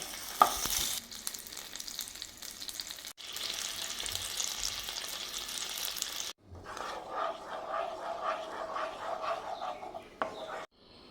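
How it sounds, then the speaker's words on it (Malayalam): A cube of butter sizzling in lightly browned caramelized sugar for green gram payasam, a loud bubbling fry-like hiss that runs continuously, broken by brief quiet dips, close and without talk. "നമുക്കിതിലേക്ക് ബട്ടർ ചേർത്ത് കൊടുക്കാം"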